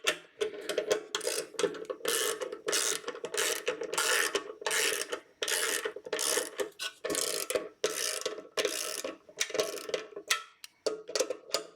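A ratchet wrench tightening fuel level gasket bolts on a Taotao TBR7 motorcycle, with repeated close, loud clicking strokes in steady bursts and brief pauses, heard without talk.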